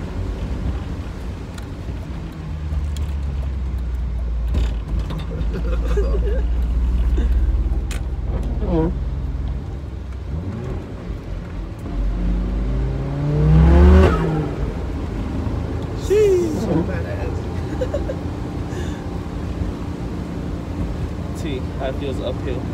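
Turbocharged car engine accelerating hard while driving, a low rumble that climbs in pitch through a strong pull midway, with wind noise throughout and voices talking over it.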